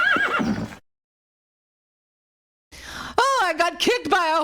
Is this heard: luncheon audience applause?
no